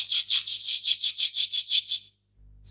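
A voice imitates a cricket chirping, giving about a dozen quick, evenly spaced high-pitched trills that stop abruptly, followed by a brief pause and the start of another sound.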